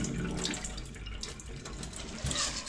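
Beans being washed by hand in water, a steady splashing and sloshing close by, with no talking.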